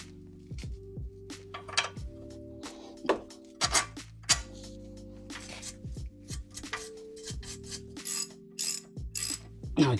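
A hand ratchet tightens a bolt on the rear AIRMATIC air suspension of a Mercedes E-Class W212, with repeated close clicking strokes in uneven bursts and a few metallic knocks between them.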